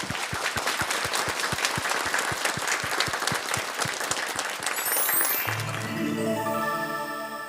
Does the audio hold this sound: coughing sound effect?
no